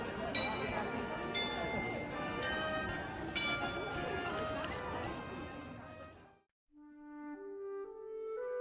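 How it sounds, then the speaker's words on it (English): Bronze bells of a 26-bell glockenspiel ring out at a Christmas market, bright clanging tones layered over crowd murmur and chatter, then fading to a few clear, sustained bell notes near the end. "You just heard the Glockenspiel. It has 26 bronze bells, each with its own tone"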